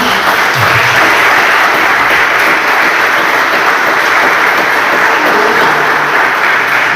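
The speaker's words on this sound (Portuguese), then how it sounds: "Você pode aplaudir o Senhor bem forte?" A church congregation applauds loudly at a service, with thick, continuous clapping from many hands filling the room at a steady level throughout, without speech over it.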